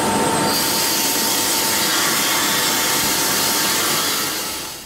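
A vacuum runs beside a sandblasting cabinet with a steady, loud, broadband roar and hiss, continuous throughout before tapering slightly at the very end.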